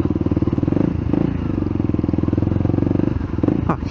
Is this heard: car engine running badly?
yes